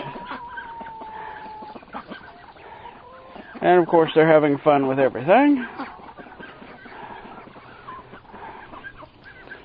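Hens on a vineyard farm cluck in a brief busy burst of several calls, loud and close, with a person talking calmly before and after.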